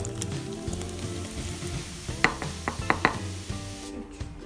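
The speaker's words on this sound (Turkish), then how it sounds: "Bir şişe sodamı da ilave ediyorum." Soda water is poured from a bottle into poğaça dough, producing a fizzing, crackly hiss with a short run of sharp clinks and taps partway through before it fades out.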